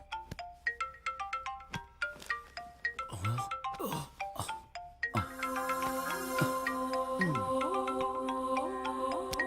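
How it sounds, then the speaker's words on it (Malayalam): A phone ringtone plays: a run of short bright melodic tones, then a sustained, denser chiming ring pattern that continues to the end. "ഫോൺ അടിക്കുന്നു."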